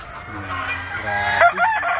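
Asil rooster crowing in breeding pens, one full drawn-out crow rising in pitch, loud and near, with other fowl clucking faintly behind.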